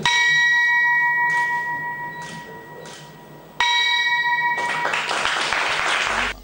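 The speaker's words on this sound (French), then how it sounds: "Premier ministre du Bénin, Lionel Zinsou, sonne ce mardi la cloche marquant la fermeture du marché à la Bourse régionale des valeurs mobilières BRVM" A stock exchange closing bell rung at the BRVM regional securities exchange rings as a bright, sustained metallic tone with ringing overtones. It fades, is struck again sharply, and then a burst of applause joins the ringing.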